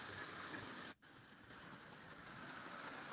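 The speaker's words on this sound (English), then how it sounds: "You might be getting drowned out by the sound of trains running." Thomas toy model trains run continuously on a layout, a steady broadband rumble and rattle with no clear beats, briefly dropping out for a moment before resuming at the same level.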